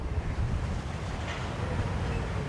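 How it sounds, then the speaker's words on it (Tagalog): Strong wind near Manila Bay along Roxas Boulevard roars steadily into the microphone, a dense, continuous rumble with no pauses or voices. "Malakas din kasi hangin ito kabayan kasi malapit sa kanya, Manila Bay, no?"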